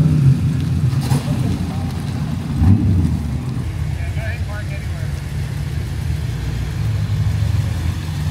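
A Ford Mustang rolls past at a Cars & Coffee car show, its engine giving a steady, fairly loud low rumble that swells slightly for several seconds, with faint crowd murmur in the background.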